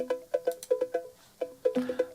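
Electronic-music cowbell run through the Shaperbox Bubble Adder preset, giving a pattern of bubbly, warbling pitched blips with smeared tails and a brief gap, played alone without talk.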